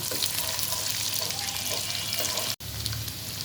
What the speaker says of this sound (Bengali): ঘি গরম হয়ে গিয়েছে এখন দিয়ে দিচ্ছি কুচি করে রাখা বাদাম কিশমিশ তেজপাতা এলাচ দারুচিনি হালকা ভেজে নিচ্ছি